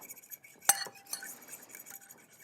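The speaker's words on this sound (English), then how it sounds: "I'm going to kind of do a quick little beat to my eggs just to get them going" Eggs beaten quickly in a bowl with a fork, starting with one sharp clink and followed by light, rapid tapping and swishing strokes that are close and fairly quiet.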